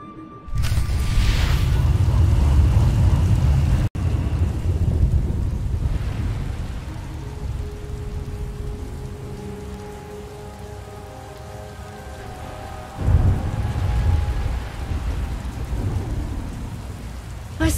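Steady heavy rain pours in a stormy scene from the SWTOR video game, with rolling thunder rumbling low under the downpour; one sharp crack cuts in early and the storm swells again near the end, loud and continuous with no talk.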